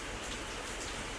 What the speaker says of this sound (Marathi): पावसाचे थेंब कसे पडत आहेत